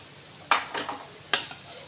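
A spatula stirs bitter gourd fry with ground peanut, cumin, garlic and curry leaf paste in a pan, giving two quick scraping knocks against the metal over a faint low sizzle.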